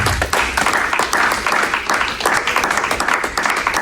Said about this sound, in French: vous pouvez applaudir, mais je sais que vous pouvez le faire